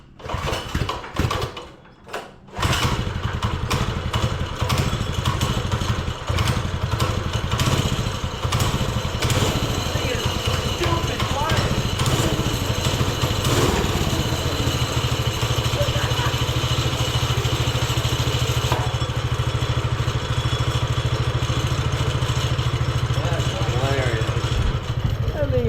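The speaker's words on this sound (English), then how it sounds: "let's start this baby up and see how she sounds with this big old muffler on" A budget minibike engine fitted with a large 125cc ATV exhaust muffler starts after a few seconds, then runs at a steady, fairly quiet idle close by, with a voice briefly heard over it.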